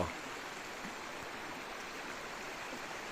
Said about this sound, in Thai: แม่น้ำลำธารน้ำใสไหลเย็น